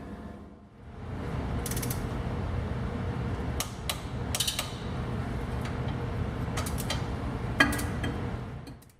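Bolts on the strap of an NV247 transfer case from a WJ Jeep being hand-tightened, giving steady close mechanical ratcheting with scattered sharp metallic clicks over a continuous low rumble.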